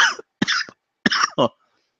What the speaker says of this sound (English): I'm probably going to cough a lot.